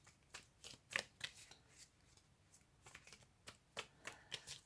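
A deck of tarot cards being shuffled by hand, quiet close riffles and snaps in irregular bursts with no voices.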